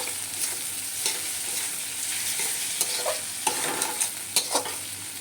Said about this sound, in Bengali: এটার মধ্যে সামান্য পরিমাণে হলুদ দেব, তার সাথে জিরের গুঁড়ো দিয়ে ভালো মতো একটু নাড়তে লাগবো।